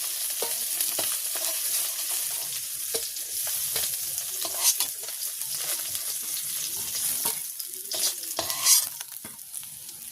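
Oil in a village kitchen pan sizzles and crackles steadily around frying fish, with intermittent scraping and stirring clicks throughout, fairly quiet and close.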